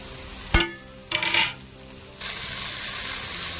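Tomato tossed into okra frying in a little oil for a bendakaya lemon curry: two short clattering bursts, then a steady close sizzle takes over and holds.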